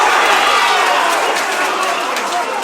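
Dense roaring crowd noise in a packed venue at a live MMA fight in Bradford, a steady loud wash of cheering and shouting with commentary voices mixed in.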